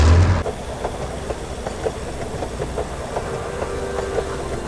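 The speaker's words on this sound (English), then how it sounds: "The transport train." A transport train in the Henry Stickman video game rolls along steadily with a rhythmic clickety-clack of wheels over rails and a low rumbling engine, fairly loud and with no voices.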